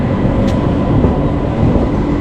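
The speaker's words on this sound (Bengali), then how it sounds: "এই যে দেখতে পাচ্ছেন নতুন প্ল্যাটফর্ম নতুন প্ল্যাটফর্মে ঢুকছে আমাদের ট্রেনটা" Loud, continuous low rumble and roar of a train pulling into a platform, heard from inside, steady without breaks.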